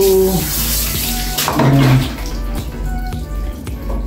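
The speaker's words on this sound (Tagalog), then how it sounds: "Sanay yan maligo si Tico" Water splashes and runs steadily while a pet cat is bathed, a close, continuous wash of flowing and sloshing water with a brief louder surge midway.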